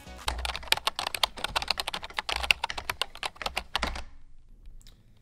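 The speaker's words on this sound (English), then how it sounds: "I can't believe how good this keyboard is" Quick, steady typing on a computer keyboard during a FIFA 22 pack opening, with crisp close keystrokes in a dense rhythm for about four seconds before it stops.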